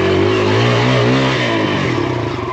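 A Kawasaki KLX140RF dirt bike engine revs hard and close on a narrow enduro trail along a mountain's edge, its pitch rising and falling continuously with no talk.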